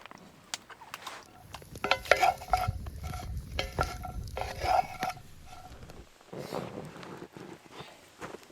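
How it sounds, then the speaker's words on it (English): Potatoes frying in a pan outdoors at a lakeshore campsite, an uneven sizzle broken by scraping and stirring clatter from a utensil, close by with brief pauses and no talk. "But we're cooking up the potatoes out here."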